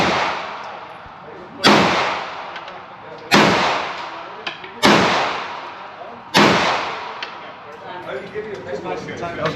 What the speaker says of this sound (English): I shot a gun.